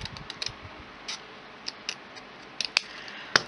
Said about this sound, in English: And in with my larger scissors so that I can get a more straight